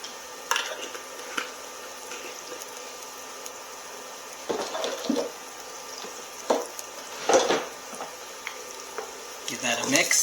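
Spaghetti sauce with sardines, paprika and oregano stirred in a pan, with quiet scraping and clinks of a utensil against the pan in scattered bursts over a faint sizzle.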